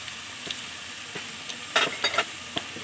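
Kochu flower being stirred with turmeric and salt in a pan, with a low steady sizzle and a handful of spoon scrapes, the strongest clustered toward the end, close and fairly quiet, without any voices.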